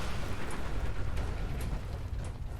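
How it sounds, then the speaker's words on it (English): A Fallout 4 explosion fills the space as a dense, continuous rumbling roar with a few sharp crackling pops, steady and loud throughout with no voices. "The hell of an explosion there too."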